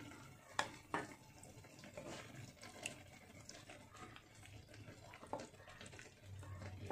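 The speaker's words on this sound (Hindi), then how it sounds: "अब इसमें हम पानी डालकर इसका एक पेस्ट तैयार कर लेंगे।" Water poured into four spoonfuls of maize flour to make a paste, quiet splashes and trickling with a few sharp knocks of the vessel, close and faint.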